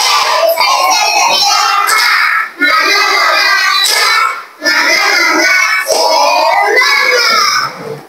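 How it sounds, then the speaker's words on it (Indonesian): A classroom of children performs a spirit clap (tepuk semangat), with loud, close rhythmic hand clapping and chanting voices in steady bursts, broken by a few short pauses. "Ayo sekali lagi tepuk semangat."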